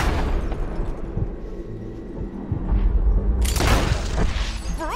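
A gunshot in the video game Red Dead Redemption 2 lands as one heavy, booming report partway through, over a rumbling low background, and is followed by faint whistling tones.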